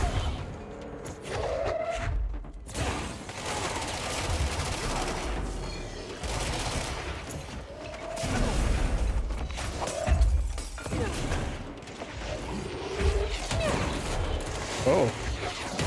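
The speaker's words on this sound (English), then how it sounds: "Just gonna start shooting randomly." Random gunfire in the action game Control, with repeated bursts of shots and thuds spread irregularly across the stretch, loud and close, mixed with game ambience and mechanical clatter.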